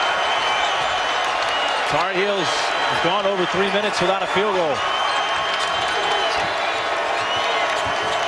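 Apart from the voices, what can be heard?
basketball arena crowd cheering for a defensive stop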